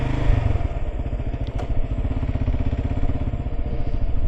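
A motorcycle engine runs steadily and close by at a border crossing in El Salvador, a loud, even throbbing idle that goes on throughout.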